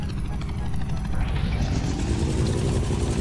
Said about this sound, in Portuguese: que barulho de helicóptero é esse?